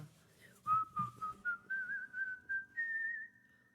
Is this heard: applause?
no